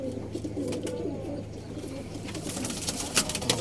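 Pigeons coo softly and steadily in an enclosed space, with faint rustling and a few light knocks toward the end.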